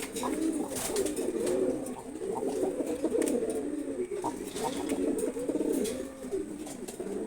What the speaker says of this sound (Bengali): কাকি জোড়া কবুতর